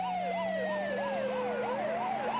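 An ambulance siren races through night streets, wailing in a steady rising-and-falling cycle, loud and close with no voices over it.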